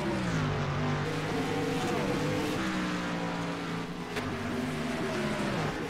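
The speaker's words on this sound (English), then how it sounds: "I think I heard him even downshift" NASCAR race car engine at Dover heard from a distance, its pitch sliding down and back up as it downshifts through a turn, steady and fairly faint with no talk.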